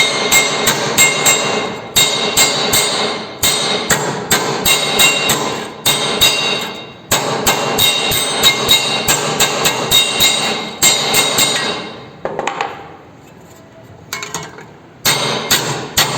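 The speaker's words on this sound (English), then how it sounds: "Then the ends are bent with the help of hammer" Steady, loud, ringing hammer blows on sheet metal as its ends are bent, striking in rapid clusters with brief pauses and a short lull near the end before the hammering resumes.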